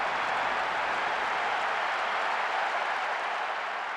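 Fans fill a stadium with sustained applause and cheering in the PS2 football game PES 6, a dense, even roar of clapping that holds steady throughout at a loud level.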